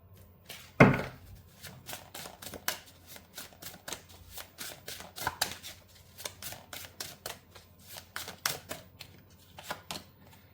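Tarot cards are shuffled in a run of quick, crisp riffles and flicks, a sharp slap near the start followed by rapid card snaps; close and clear, with no talking.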